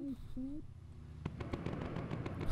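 Bomber turret cannons firing in the video game Bomber Crew: a rapid run of sharp booming shots starts midway and keeps going, with a voice speaking briefly before the firing.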